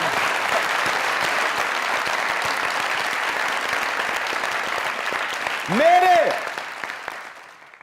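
A studio audience on a comedy talk show claps steadily in a broad wash of applause, and a voice speaks briefly near the end as the clapping tapers off.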